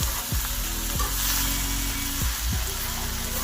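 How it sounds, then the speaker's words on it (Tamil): Mushrooms frying in a pan for mushroom chukka give a loud, steady sizzle, with a few sharp spatula scrapes and knocks as they are stirred, close up and without speech. "காளானை போட்டு நம்ம நல்லா கிண்டி விட்டுற வேண்டியதுதான்"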